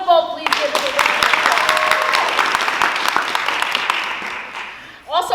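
Youth theater audience gives a long, dense round of applause for a program advisor at a stage show of adolescent skits, loud and sustained, fading near the end as a voice begins.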